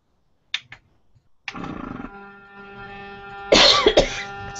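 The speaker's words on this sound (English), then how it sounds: "now I'm going to start coughing" A couple of short coughs, then a brief pause and a louder, harsher cough near the end, close to the listener.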